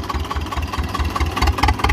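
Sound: 1972 T-25 tractor engine idling

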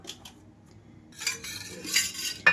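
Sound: pan placed on the stove

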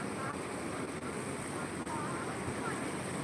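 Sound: flooded Purna river rushing over a submerged weir

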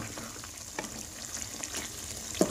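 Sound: beef keema with black pepper being stirred in a karahi

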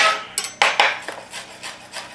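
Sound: knife finely chopping rosemary leaves

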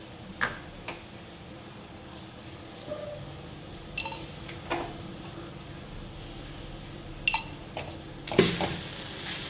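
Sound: stirring sabudana potato bhaji with peanut powder in pan

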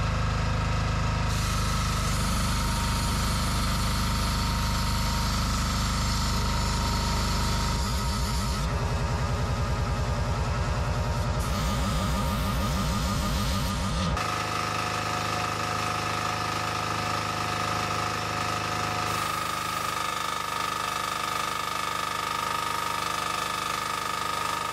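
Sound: Proton 360 Plus generator running under induction motor load

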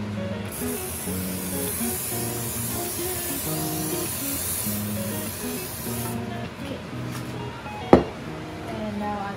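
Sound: spray can spraying

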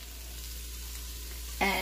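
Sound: sliced bok choy sizzling as it is added to the pan

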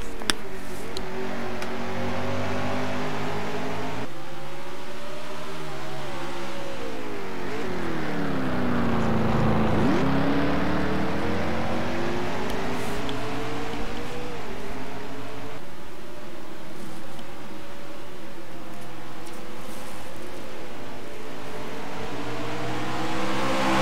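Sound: race car engines, NASCAR Toyota Save/Mart 350

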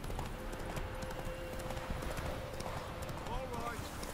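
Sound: horse galloping in video game The Witcher 3: Wild Hunt

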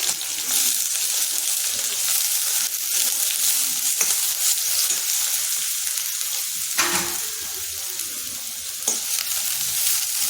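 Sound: black pepper sizzling in hot oil in a pan

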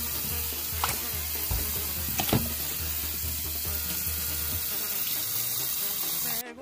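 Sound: washing an octopus under running water

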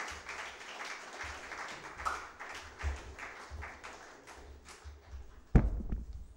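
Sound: applause

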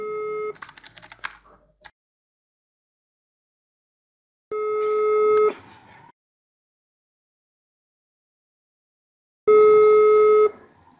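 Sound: phone call tones reaching voicemail

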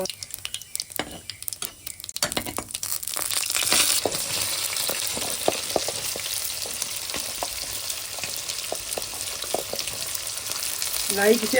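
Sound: cumin seeds sizzling as added to hot pan

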